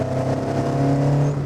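A Ford Escort Mk1 engine drones steadily through a corner at a sustained rev, its harmonic hum close and loud from inside the cabin, with a slight swell in pitch partway through.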